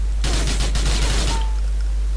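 Gunfire in GTA IV aimed at the fuel tank of a VAZ 2101 car: a quick burst of sharp shots, then a ringing tail and quiet.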